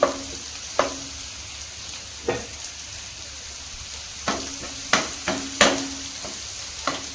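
Coriander and curry leaves frying with onions in a pan for an omelette egg curry, a low steady sizzle broken by several sharp scraping stirs of a spatula, close up with no speech.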